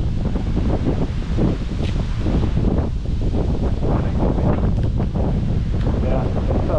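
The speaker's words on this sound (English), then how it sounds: "it's breezy today" Breezy wind buffets the microphone on an outdoor trail, a loud continuous roaring rumble with gusty swells, while voices talk faintly beneath it.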